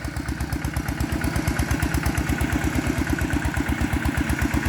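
Small homemade farm vehicle whose engine also drives a water pump, chugging steadily at a fast even idle with rapid regular low thumps, close by and fairly loud, no talking.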